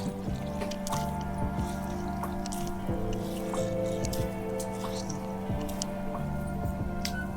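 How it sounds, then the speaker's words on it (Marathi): Boiled wild mountain greens squeezed by hand to press out the water, giving soft wet squelches and drips over a steady low background hum, close and fairly quiet. "आता मी पिळून घेते कारण याच्यात पाणी राहते ना"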